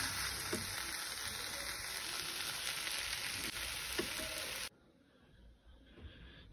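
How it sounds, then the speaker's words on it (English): Veg chow mein is sautéed in a pan, a loud, continuous close sizzle with faint stirring clicks that drops away abruptly near the end, leaving a quiet room with no talk. "I have already put everything together and sauteing it for a bit"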